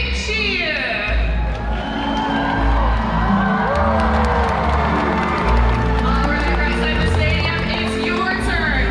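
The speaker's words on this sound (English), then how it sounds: "When you see him, let's give him a great big cheer." A large SeaWorld Orlando audience cheers and whoops for a killer whale at an Orca Encounter show, a loud, dense crowd roar filling the stands while an amplified announcer voice and music carry on underneath.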